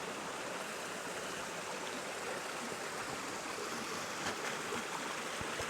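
Water gushes steadily out of a freshly cleared pipe blockage on a Portuguese homestead, a loud, continuous rushing like a small waterfall with a few splashy bursts near the end.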